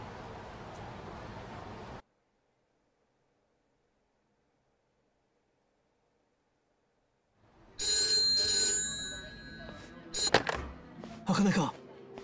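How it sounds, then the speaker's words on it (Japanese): A telephone rings in the Yakuza: Like a Dragon video game, a bright, trilling ring that rises after a stretch of silence, with short bursts of clatter and other noise around it. "俺宛に電話がかかってきた。"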